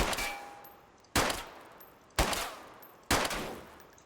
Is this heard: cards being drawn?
no